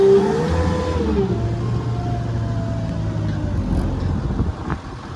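A Case TV370 compact track loader's engine holds a loud, steady drone close by, with the throttle held up and pitch shifting slightly as the arms lift, continuous for about five seconds.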